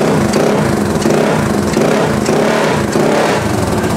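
A Honda PCX 160 scooter converted into a chopper revs loudly and up close, its small engine throbbing in short, even bursts without a break.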